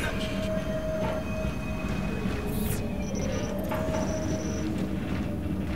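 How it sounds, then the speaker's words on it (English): A train cart drops inside the video game Hard Reset, a steady rumbling rail clatter with squealing metal tones and high whines running through the full stretch, loud and continuous with no talking. "Yeah, I dropped the train cart."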